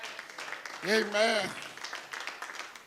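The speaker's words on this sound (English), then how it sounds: "Give God a hand clap right there now." A church congregation claps along in a steady patter, fairly faint and distant, while a single voice calls out briefly over the top.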